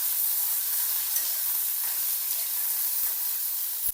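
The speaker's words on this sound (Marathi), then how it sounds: "त्याच्यामध्ये कोथिंबीर टाकायची. तिला पण परतून घ्यायचं." Chopped coriander and green chillies frying in oil in a pan make a continuous, even hiss and sizzle throughout, close and moderately loud, with no voices.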